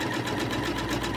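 Close and loud, a sewing machine runs steadily with a fast rhythmic mechanical pulse while stitching coiled fabric into a dough proofing bowl, with no talk over it.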